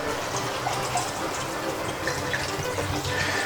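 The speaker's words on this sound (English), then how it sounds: "at this point, top this up with water. This was warm water." Warm water pours steadily into a pot of cabbage soup, making a continuous close rushing and splashing with no pauses and no voices.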